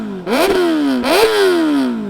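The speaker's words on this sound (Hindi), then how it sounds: "So this is how the bike actually sounds." Kawasaki Ninja ZX10R inline-four sport bike engine blipped twice, each rev rising sharply then sliding back down toward idle, loud and close with no one talking.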